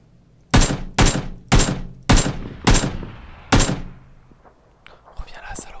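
Enemy gunfire in the PUBG video game, six loud, sharp shots at irregular intervals close by, each with a short decaying echo, followed by quieter faint sounds.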